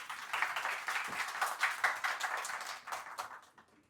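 Fairly faint clapping from an audience welcoming Asad Sana Ullah at a thalassemia charity gathering. The rapid, irregular claps hold steady for a few seconds, then thin out and fade away.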